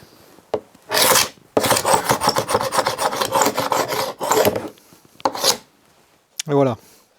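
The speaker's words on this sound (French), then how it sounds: "je vais utiliser ce truc qui sert à gratter les peintures pour enlever la colle" Paint scraper scraping dried glue off wood, loud rasping strokes in a fast rhythmic run, with a few separate short scrapes before and after and a brief voice near the end.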